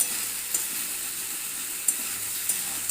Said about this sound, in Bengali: এটা এবার কষাতে থাকি সুন্দর করে, একটু মোটামুটি 7-8 মিনিট কষাবো।